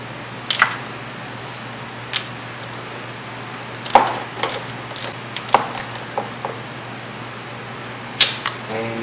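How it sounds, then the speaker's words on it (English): A ratchet with an 8mm socket tightens ground strap nuts on a BMW E36 engine, giving quick bursts of close, crisp clicking in short runs over a faint steady hum. "Tighten up the ground strap nuts with the 8mm socket."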